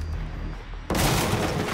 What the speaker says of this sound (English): Barricades can also be destroyed by gunfire.